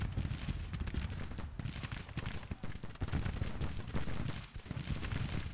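Artillery and musket fire in a Civil War battle video game near Martinsburg, with a field gun among the weapons, dense repeated booming and crackling shots, layered and continuous.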